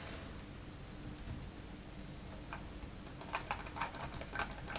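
Rapid keyboard typing, faint at first, then a burst of louder clicky keystrokes near the end over a low background hum.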